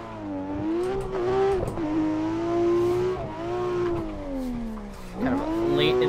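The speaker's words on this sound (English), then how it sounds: "we're gonna run the outer zone sections in this car" A very high-powered, untuned drift car runs the outer zone sections of a competition drift track, its engine revving continuously with rising and falling pitch and occasional tire noise, loud and steady throughout with no talk.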